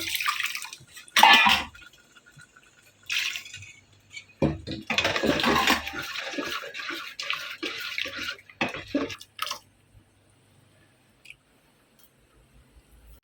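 Water poured into a cucumber curry pot with ground coconut and cumin, pouring and splashing in several bursts with quiet gaps between them, then fading to near silence.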